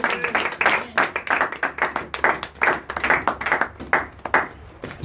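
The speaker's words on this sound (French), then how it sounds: "nous acclamons encore le Seigneur Jésus-Christ" Church congregation clapping together in acclaim of the Lord, a steady rhythmic burst of many hands close by, strong and continuous for several seconds.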